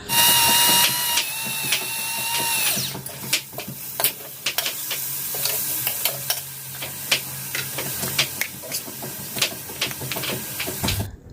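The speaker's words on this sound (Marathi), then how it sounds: "आता इथे मी टोमॅटो पण टाकला आहे कढईमध्ये आणि छान सर्व काही भाज्या आहे ना तेलामध्ये तेल सुटेपर्यंत परतवून घ्यायच्या" Tomatoes and mixed vegetables sauté in oil in a kadhai for paneer ghotala, with a brief loud sizzle at the start followed by repeated scraping and stirring clatter against the pan, close by and without speech.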